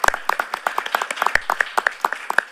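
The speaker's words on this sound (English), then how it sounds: "the round of applause will be" At an Urban Climate Justice Day gathering in Reggio Emilia, a small group claps in a brisk, fairly even rhythm, the sharp close claps running without a pause through the short stretch.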